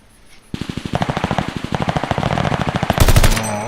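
Rapid automatic gunfire in Call of Duty: Vanguard, a steady burst of evenly spaced shots lasting about two and a half seconds, loud and close, ending in a heavier blast; no talk.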